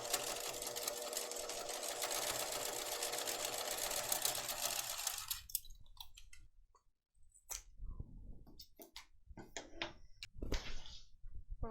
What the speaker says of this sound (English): I'll just sew right across there to attach it.